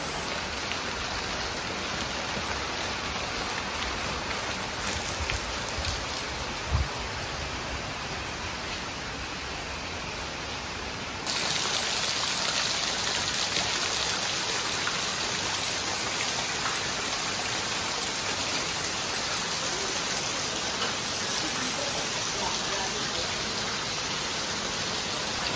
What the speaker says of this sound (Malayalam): അടിപൊളി മഴ ഇവിടെ പാലക്കാട്.